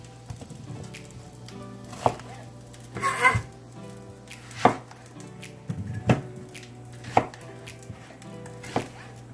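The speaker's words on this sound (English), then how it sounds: "We're going to cut our onions in quarters." Knife chopping onions into quarters on a board, with several sharp, spaced thuds plus one longer crunchy stroke, close and distinct over a faint steady hum of background music.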